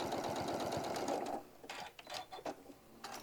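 A sewing machine runs steadily while topstitching a hobo bag, then slows into short stop-start bursts of stitching.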